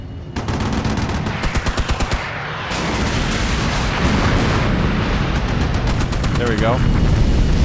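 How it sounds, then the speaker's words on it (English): Napalm and cluster bombs hit one position in the Armored Brigade 2 war game, giving rapid bursts of popping detonations and then a loud sustained roar of blasts and crackle. Someone speaks briefly over it. "Napalm and clusters all in that one position."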